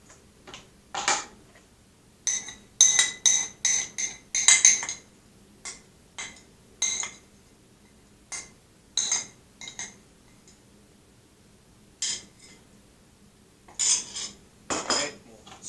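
Spoon clinking against a bowl while stirring a honey-sweetened venison jerky marinade, a series of sharp close taps in uneven bursts with short pauses between.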